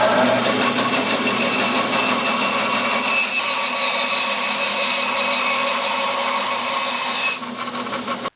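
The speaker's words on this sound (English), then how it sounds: "All right, over to the bandsaw." A bandsaw slices through a small log chunk about five inches across, a steady loud whine and rasp running unbroken for several seconds before easing near the end.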